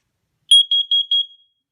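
Carbon monoxide alarm on its test cycle, four sharp high electronic beeps in a quick even burst, loud and alone against silence.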